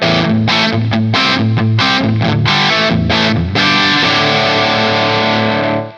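An overdriven electric guitar through a Two Notes Le Clean preamp, no amp, chugs out a choppy rhythmic riff, then rings out on a final sustained distorted chord that fades away.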